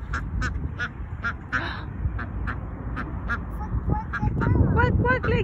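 Several ducks quack in a quick series of sharp calls nearby, with a person's voice speaking and imitating the quacks toward the end.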